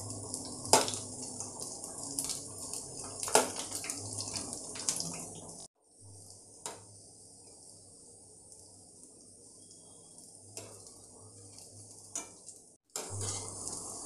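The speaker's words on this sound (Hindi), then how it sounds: "उसके बाद हम इसे उलट पुलट कर फ्राई कर लेंगे अच्छा सा क्रिस्पी होने तक" Soya bean kebabs deep frying in oil until crispy, a continuous close sizzling hiss with occasional clinks and scrapes as they are turned, no speech.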